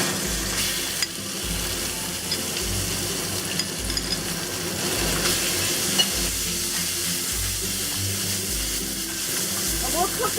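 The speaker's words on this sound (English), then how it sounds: "the first thing we'll do is cook the pork" Pork sizzles and crackles steadily in hot oil in a pan over medium-high heat, a dense continuous fry with occasional stirring clinks, close and fairly loud throughout.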